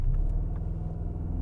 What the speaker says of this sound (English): then just left foot on the brake, floor the throttle, and launch it